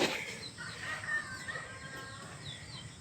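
Chickens on a farm clucking softly at close range, a few brief low calls over a faint rustling background.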